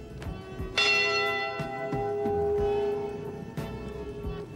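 A memorial church bell tolls for the Edmund Fitzgerald crew, one strong ringing strike that hangs with a long shimmering decay over a low rumble, followed by fainter softer hits.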